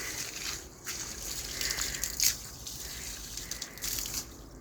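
Water runs and splashes steadily while trees are watered outdoors, a soft continuous gush with brief sloshing bursts, fairly faint throughout.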